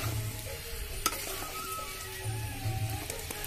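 Chicken potato curry frying in oil while being stirred, Odia style: soft steady sizzling with the scrape and clatter of a spoon against the pan, one sharper knock, fairly quiet and close.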